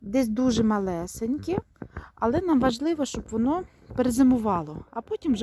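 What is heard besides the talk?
No everyday noises stand out.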